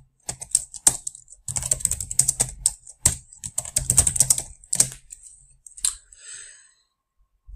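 Computer keyboard keys pressed in a quick, irregular run of crisp clicks and taps, including the tab key, close and clear with no talking.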